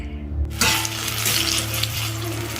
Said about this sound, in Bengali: তো এখন আলু ভাজা, শিম ভাজা এগুলো হবে। তো চলো ভাজাভুজিগুলো করে নিই